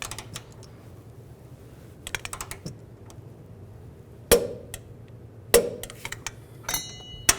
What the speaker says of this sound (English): now we're going to torque this nut to